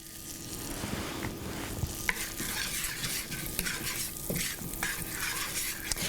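Sugar is stirred into butter in a pan, a steady close scraping and swishing with a soft sizzle underneath and a few light clicks of the utensil against the pan.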